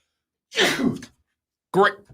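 During a live show, two sharp bursts of a sneeze or sneeze-like throat sound come close to the microphone, separated by a short silence.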